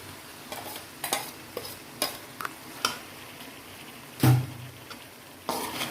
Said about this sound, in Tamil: நல்லா பச்சை வாசனை போகிற அளவுக்கு நல்லா மிக்ஸ் பண்ணி எடுத்துக்கோங்க